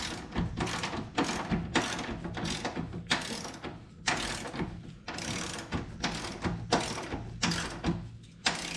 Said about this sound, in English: okay, torque wrench set at 20.